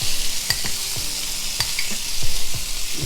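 Smoked sausage with bacon jam sizzling loudly in a pan, a dense crackle punctuated by a regular series of sharp clicks and scrapes from a utensil moving the food, close and with no talking.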